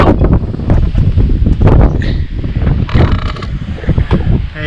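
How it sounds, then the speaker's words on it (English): Strong wind buffets the microphone on an exposed mountain track in south-west Western Australia, a loud, continuous roaring rush with gusty surges throughout and no speech. "So it's very windy up here by the sound"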